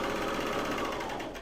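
A serger sewing machine stitching fabric, a brief, steady, fast-running mechanical whir with a dense rapid buzz, close and moderately loud, running alone without speech.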